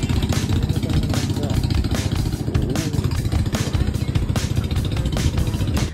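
A boat engine chugs steadily while towing a floating restaurant raft along the Balingasay River in Pangasinan, a loud, close, rhythmic putter with clattering, and people talking underneath.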